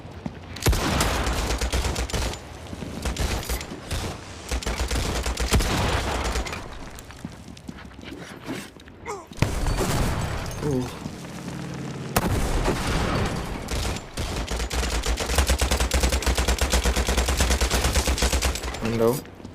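Rapid gunfire and heavy shotgun blasts from a World War 2 video game crackle in loud, dense bursts almost without pause, with a short lull in the middle before the shooting resumes.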